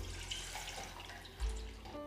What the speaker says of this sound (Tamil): 1 லிட்டர் தண்ணியை நான் இதில் ஊற்றிடுறேன்